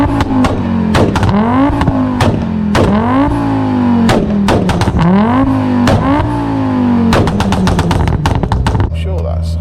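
A loud turbocharged five-cylinder Audi S2 Cabriolet engine, about 510 bhp, revs hard on high boost through repeated gear pulls, pitch climbing and dropping sharply each shift, with rapid popping bursts between them.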